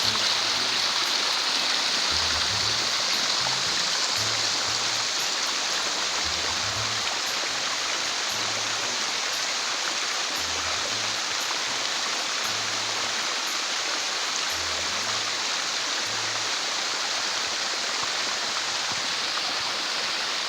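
Steady, dense rush of falling water, loud and continuous throughout, like a waterfall pouring nearby with no pauses.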